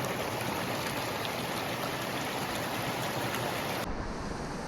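Steady rushing water of a small Utah trout creek at early-summer runoff flows continuously and fairly loudly nearby, a dense broadband wash with no voices.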